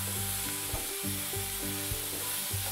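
Coriander being stirred into peanuts and corn in a hot pan, a steady sizzle and hiss running throughout with soft, regular scraping strokes of the spoon, close and continuous, without any talking.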